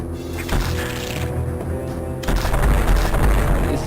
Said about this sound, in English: let's power bomb here